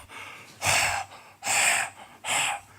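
A voice imitates wheezing, laboured breathing with three long, raspy breaths, each rising and fading with short pauses between them.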